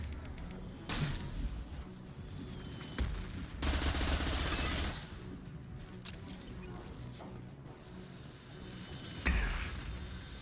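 Gunfire in the Mass Effect 2 video game, bursts of rapid automatic shots and fusillades coming and going over a busy game soundscape.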